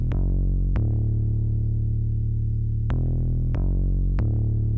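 A deep, buzzy trance synth bass plays sustained notes with the arpeggiator off, changing pitch every second or so with sharp attacks, no arpeggio pattern.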